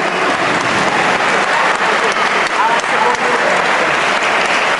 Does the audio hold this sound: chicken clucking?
no